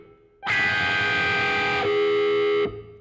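A dissonant three-note electric guitar chord played through a wah pedal rings out loud and sustained with a distorted, effects-heavy tone, its color shifting partway through before it cuts off.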